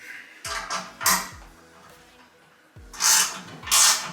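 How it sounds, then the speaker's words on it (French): A 13 mm wrench tightens nuts on a Geberit Duofix wall-hung toilet support frame, producing four short, spaced metallic clanks and scrapes with quiet pauses between them. "il faut juste serrer deux écrous là. Petite clé de 13 appliquée."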